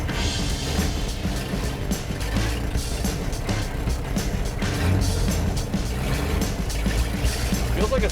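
An old car engine, on its first drive in 40 years, drones steadily throughout with road and cabin rumble, loud and continuous from a near position.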